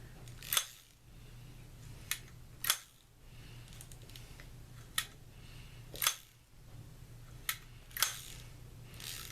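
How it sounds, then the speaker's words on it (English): Bale of a Garcia Mitchell 400 spinning reel being flipped open and shut during a repair, a series of sharp, quiet mechanical clicks spaced about a second apart over a faint hum. "Does the bale operate properly?"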